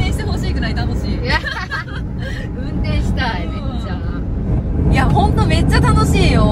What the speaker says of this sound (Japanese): 後ろからエンジン音を感じるけん